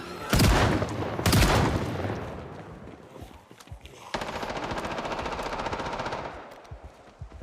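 Pistol grip shotgun fire in the zombie survival game Project Zomboid: two loud, sharp blasts up front, then a sustained rapid stream of close gunfire that rattles on for several seconds, with no speech.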